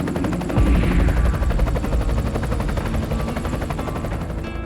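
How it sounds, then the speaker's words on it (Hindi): Loud, close helicopter rotor chop, a fast rhythmic thudding with engine whine that swells as it arrives and stays constant. "और तभी तेज आवाज के साथ हेलीकॉप्टर वहां आ"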